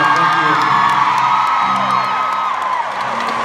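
A concert crowd at a show cheers and whoops loudly and steadily, a sustained roar of many voices with a few shouts rising above it.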